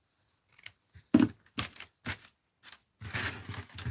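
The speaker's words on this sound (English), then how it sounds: "Let's just cut it" Scissors snip through paper in a craft setting, a string of short separate cuts spaced about half a second apart, close and clear, with a longer crisp rustling cut near the end.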